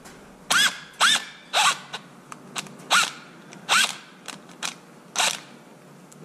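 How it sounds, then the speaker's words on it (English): A 2mm driver working a switch screw loose on a Kraton 8s RC car, heard as a series of about ten sharp ratcheting clicks and scrapes in an irregular rhythm, close and fairly loud with no talk. "first I'm gonna remove this screw of the switch"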